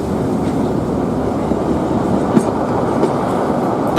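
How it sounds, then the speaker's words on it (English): Steady low rumble of a Class 11 diesel locomotive arriving at a station, with faint wheel clatter and a constant heavy drone, fairly loud and close. "Probably the railway's only proper resident diesel locomotive in action today is Class 11"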